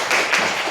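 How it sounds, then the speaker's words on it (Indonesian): A classroom group clapping for a boy named Man after he led the prayer, a short burst of hand claps lasting under a second, close and moderately loud. "Tepuk tangan dulu buat Man"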